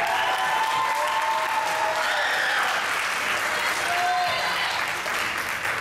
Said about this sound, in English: go ahead and give them another round of applause